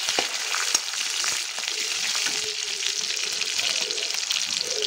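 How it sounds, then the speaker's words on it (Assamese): Small onions frying in hot oil with panch phoron and bay leaf for a fish head curry: a continuous crackling sizzle with scattered pops, close and steady, without talk. "এতিয়া অলপমান পিঁয়াজখিনি অকণমান সিজিবলৈ দিওঁ"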